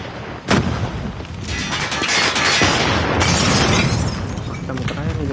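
A Semtex grenade detonates in a Call of Duty Mobile match, a sudden loud blast followed by sustained booming, crackling gunfire and debris noise, with a player's voice talking over the chaos.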